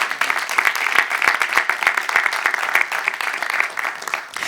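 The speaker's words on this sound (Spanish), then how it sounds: "Denle un aplauso al Señor si usted lo cree." A church congregation applauds in a sustained, dense wash of clapping, loud and close, with a few distinct sharp claps standing out early on.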